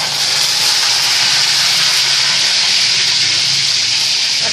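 Curry leaves dropped into hot tempering oil with mustard seeds and urad dal for a Tirunelveli-style pongal sambar, giving a loud, steady, close hiss and sizzle with no talk.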